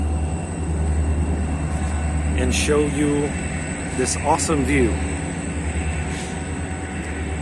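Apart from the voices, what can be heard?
train passing by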